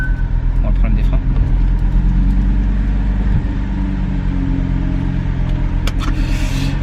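An Audi RS3 engine runs with a steady, deep close-up rumble and slight rev changes, while people chat in French over it.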